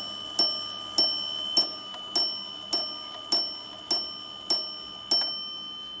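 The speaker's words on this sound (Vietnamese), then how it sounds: "Vừa rồi là 10 giờ và đồng hồ điểm 10 tiếng nhá." An antique Dutch clock strikes ten o'clock: ten evenly spaced, ringing bell chimes about half a second apart, each decaying into a sustained shimmering tone, clear and close with no talking.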